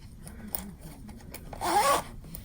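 The zipper pocket of an A5 planner is pulled open in one quick, scratchy rip, close up, after some soft rustling and handling.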